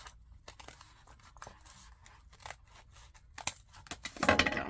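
Scissors trimming the edge of a paper list pad for a vintage envelope, a series of close, quiet snips with crisp paper rustle growing louder at the end, no speech.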